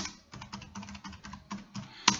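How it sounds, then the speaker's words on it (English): Rapid clicking keystrokes on a small computer keyboard, an uneven run of close taps followed by one sharper final click, with no talk. "I've got a stupid little keyboard here that doesn't want to take the copy on the E"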